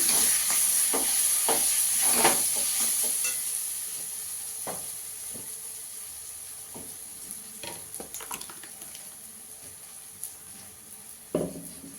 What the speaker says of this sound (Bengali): এবার ডাল বাটাটা দিয়ে দেবো।